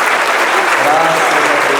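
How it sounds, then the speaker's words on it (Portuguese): A church congregation breaks into steady applause during a worship service, a dense even wash of clapping throughout, with faint voices mixed in beneath it. "Vamos aplaudir ao nome de Jesus?"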